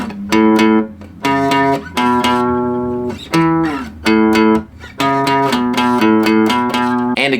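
An electric or acoustic guitar plays a one-finger riff with both parts joined, bright plucked notes in short rhythmic phrases with brief gaps, loud and close, no talking.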